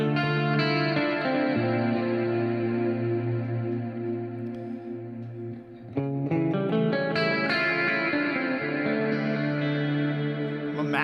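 Fractal VP4 guitar tone with cloud reverb being rolled in toward maximum, sustained chords blooming into a thick, shimmering wash that swells and lingers, with a brief dip before a fresh strum around the middle, no talking.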